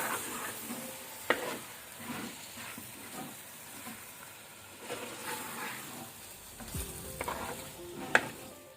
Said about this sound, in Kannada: ಒಮ್ಮೆ ನಾವೀಗ ಮೀಡಿಯಂ ಫ್ಲೇಮಲ್ಲಿ 1 ಮಿನಿಟ್ ಫ್ರೈ ಮಾಡ್ಕೊಳ್ಳುವ ಸ್ವಲ್ಪ ಮಸಾಲೆ ಜೊತೆಗೆ